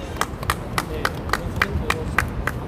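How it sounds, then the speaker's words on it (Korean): Attendees at a Korean press conference and rally demanding a Supreme Court recount clap to welcome a speaker, a sparse, evenly spaced run of about ten crisp claps, close and fairly soft with no talk. "박수로 환영해 주시면 감사하겠습니다"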